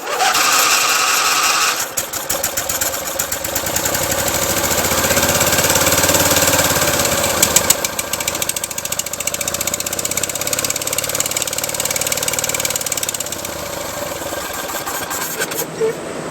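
A Yamaha 670cc V-twin motorcycle engine, swapped into a custom bike with a suspected exhaust flange gasket leak, runs at a steady, fairly loud idle throughout, with a grumbling low rumble that rises briefly and settles.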